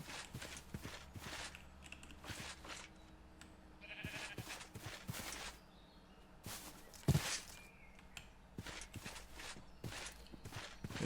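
Sheep bleating in a Minecraft-style survival video game, several short game bleats scattered among soft footstep clicks and ambient game sounds at a moderate level, with one louder burst partway through.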